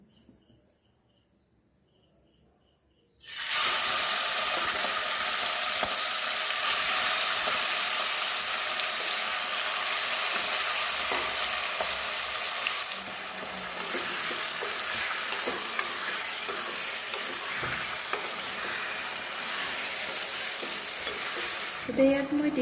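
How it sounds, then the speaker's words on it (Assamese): Marinated chicken drops into hot oil with a bay leaf and sizzles loudly at once, a dense steady frying hiss close by that eases slightly partway through, with occasional stirring. "ইয়াত এতিয়া এই মেৰিনেট কৰি ৰাখি থোৱা চিকেনখিনি দি দিম।"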